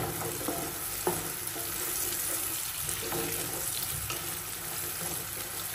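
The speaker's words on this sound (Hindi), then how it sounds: "सबसे पहले एक प्याज काटा है वो इसमें डाला है, और ये देखिए इसको अच्छी तरह हम फ्राई कर लेंगे" Chopped onion frying in a pan for Pakistani pineapple pulao, giving a steady, dense sizzle with occasional stirring clinks, continuous and fairly close, with no talking.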